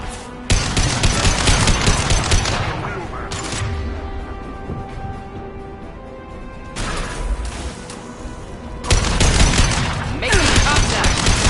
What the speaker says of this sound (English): Making contact! Firing a high-impact shot!